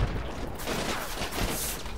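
Dense gunfire rattles in a Plants vs Zombies Garden Warfare 2 match, a steady stream of shots mixed with action noise and no clear pauses across the two seconds.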